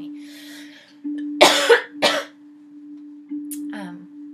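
Two sharp coughs in quick succession, close and loud, followed by a softer throat-clearing breath over a steady low hum.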